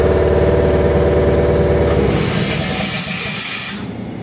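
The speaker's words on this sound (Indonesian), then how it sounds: "Jadi klakson elektrik itu seperti ini teman-teman." Electric horn of a Tokyu 8500 KRL commuter train sounding a long sustained tonal blast for about two seconds, then giving way to hissing and rumbling train noise.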